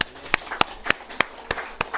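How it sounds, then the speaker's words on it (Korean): A church congregation claps in slow unison, about seven sharp, evenly spaced claps in two seconds, crisp and fairly close with no talk over them. "잠시 서로를 위해서 박수 한번 치도록 하겠습니다"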